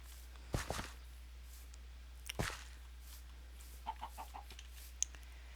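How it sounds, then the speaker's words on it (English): Minecraft chickens in the FoolCraft modpack give a few short, clipped clucks, two sharp bursts followed by a quieter run of small clucks and a final peep, alone with no talk. "Okay, move over, chicken."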